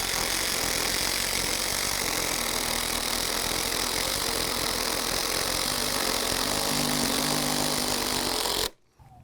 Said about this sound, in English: We run a timber lock all the way in 4 inches into that joist, and I'm going to tighten up the entire structure all at the same time